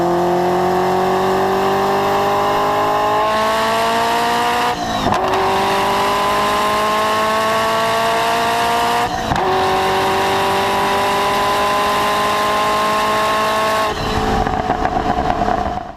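Ferrari F40 engine revving hard and loud, several long climbing pulls through the gears with brief breaks at each shift, no voices over it.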